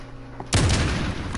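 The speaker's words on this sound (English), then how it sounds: "I heard that gunshot back" A sudden loud burst of gunfire erupts in the Modern Warfare video game after a quiet lead-in, sharp and close, with rapid reports tailing off.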